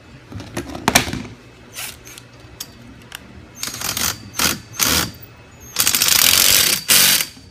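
Metal FastPipe connector fitting being tightened onto EMT conduit, a series of short ratcheting clicks and scraping bursts at close range, ending in a longer, louder grinding stretch, with no talking.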